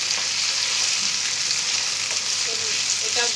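Chilli paneer sizzling steadily in a frying pan as tomato sauce is stirred in, a loud continuous fry with faint scraping and stirring touches throughout, no voices.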